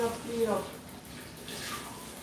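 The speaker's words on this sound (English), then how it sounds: "Let me rinse back this little pan." A small pan rinsed under a running kitchen tap, water splashing and hissing softly and continuously, with a brief low voice near the start.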